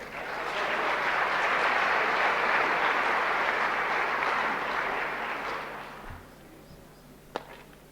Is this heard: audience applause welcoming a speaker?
yes